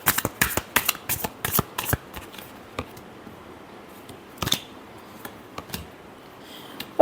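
A deck of tarot cards is shuffled close up. Crisp riffling bursts come quickly in the first two seconds, then fade to occasional isolated flicks and taps in a quiet room.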